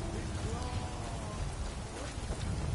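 Rain in Skyrim, played in survival mode, falls as a steady, dense hiss and patter across the whole stretch, with no break or change, and faint tonal ambience sits beneath it.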